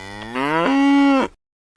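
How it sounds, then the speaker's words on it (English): A single cow gives one long, loud moo that rises and holds before cutting off, close by with no voices. "A cow goes."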